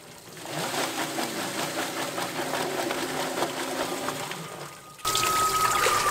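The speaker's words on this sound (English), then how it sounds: "We have a plucker over here where we will put them in and it will remove the feathers." A small backyard chicken feather plucker running, a steady mechanical whir with rapid rattling and splashing water, close and continuous, changing abruptly to a louder, harsher tone near the end.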